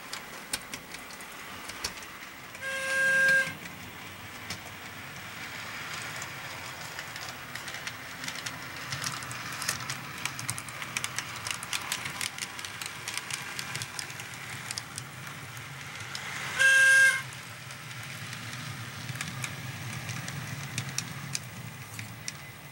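An HO scale model trolley train powered by overhead wires runs with a steady whirring and clicking rattle, broken twice by brief louder tonal whistles or horn-like blasts.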